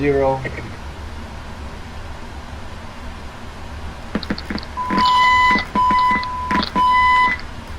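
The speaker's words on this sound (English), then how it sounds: "That's all the tests and alarms and stuff." An aircraft cockpit runs through its alarm and warning tests: a sharp burst of tones, then repeating electronic beeps and chimes in three loud pulsed bursts over a constant ventilation hiss, with a voice speaking briefly near the start.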